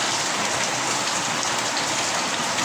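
Heavy typhoon rain pours down at a flooding house, a dense, unbroken roar of downpour that stays loud and close throughout with no voices.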